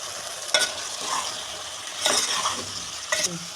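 Bottle gourd pieces being stirred in a frying pan with tomatoes for a dalcha curry, with a steady sizzle under three distinct scraping strokes of the spoon; no one speaks.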